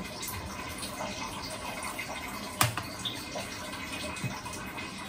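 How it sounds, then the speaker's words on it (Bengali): Lukewarm water trickles and splashes softly into a bowl of dough for momo wrappers, a quiet, faint pour with one sharper knock of a vessel midway, close and with no speech. "হালকা গরম পানি দিব"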